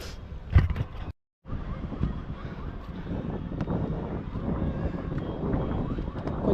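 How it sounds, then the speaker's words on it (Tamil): Strong wind buffets the microphone during a climb up the Namakkal hill fort, a steady rushing roar that holds throughout after a brief dropout near the start. "கொஞ்சம் மேலே ஏறும்போது தாங்க நல்லா காற்றடிக்குது."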